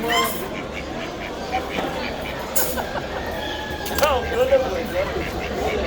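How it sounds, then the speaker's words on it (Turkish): Mallard ducks at a busy live poultry market, with scattered quacks and honks rising over a dense crowd murmur and voices speaking nearby. "Yeşil başlı ördekler."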